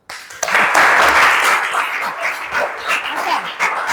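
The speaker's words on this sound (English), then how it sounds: "we give applause once more again" Classroom applause from a group of students: steady, dense clapping that starts abruptly and carries on at an even level for a few seconds.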